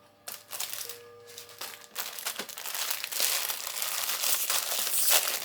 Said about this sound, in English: I just take one of these packs and they are folded over, and I just run my knife down the middle like so, cut it in half.